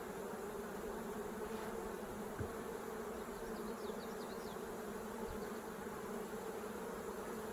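Honeybees buzz steadily around an open hive during swarming season, a dense, continuous drone that stays close and constant throughout with no voices.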